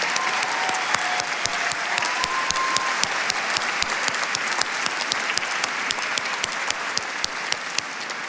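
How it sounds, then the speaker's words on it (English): Sustained audience applause at the Gotham Film Awards honoring Sandra Schulberg with an honorary award, a full room clapping steadily and evenly for several seconds, with a faint voice briefly audible. "please give her another round of applause"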